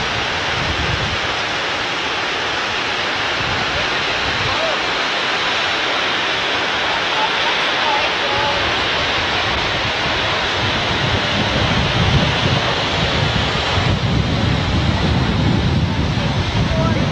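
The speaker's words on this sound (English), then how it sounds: "It's just a waterfall." Niagara Falls sends up a loud, continuous broadband roar, steady and close, mixed with wind buffeting the microphone and occasional talking.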